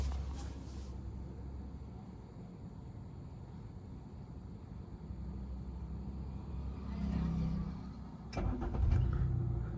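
A Maruti Suzuki Swift's engine restarts by itself through its automatic start-stop system: a low idle hum inside the car, then a brief crank and a rise into a running engine near the end.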